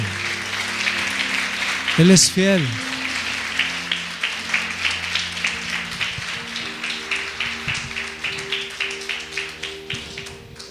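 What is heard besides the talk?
congregation applause during a church sermon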